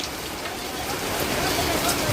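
Heavy monsoon rain falls on a teachers' protest march in Maharashtra, a dense, loud, unbroken hiss of downpour that fills the whole clip.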